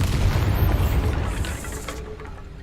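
A deep, booming Bombarda spell explosion from Hogwarts Legacy, a heavy low blast that rolls and decays over a couple of seconds with no talk over it.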